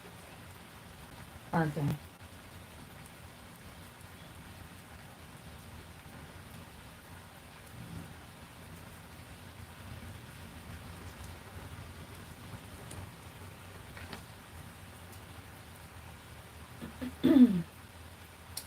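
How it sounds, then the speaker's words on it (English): Heavy rain falls outdoors with a soft, continuous hiss. A brief spoken remark and a couple of short louder knocks briefly break through the wash. "And there we're getting a more intense rain."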